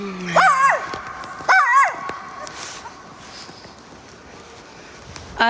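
Outdoors on a snowy winter day, a person mimics a dog with two short, pitched barking yelps close to the microphone. Gusty wind noise follows.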